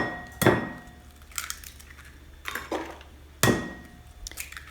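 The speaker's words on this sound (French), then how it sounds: "Je casse mes 4 œufs." Four eggs are cracked on a hard edge for crème caramel, a few sharp, close taps and cracks spaced about a second apart, with faint shell rustles between them.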